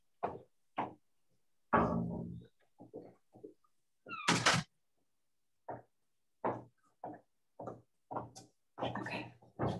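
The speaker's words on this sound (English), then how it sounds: "let me close my door real quick" An office door pulled shut, heard as a series of scattered knocks, thumps and handling bumps with one sharper, louder slam in the middle, all close by in a quiet room.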